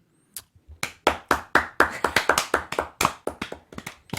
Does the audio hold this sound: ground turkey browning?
no